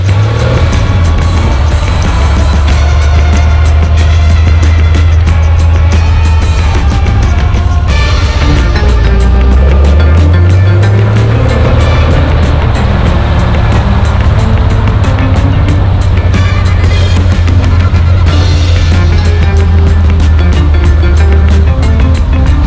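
A Porsche RSR race car drones loudly through Paris traffic, its engine note rising and falling with a low, continuous roar and a shifting pitch sweep, close and dominant throughout.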